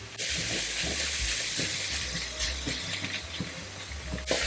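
Flipped pork slices keep frying in a hot wok for Hakka stir-fry, giving a continuous moderate sizzle and crackle with faint low rumble underneath, no one talking.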